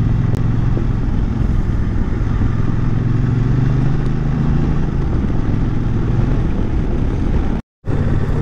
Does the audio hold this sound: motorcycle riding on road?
yes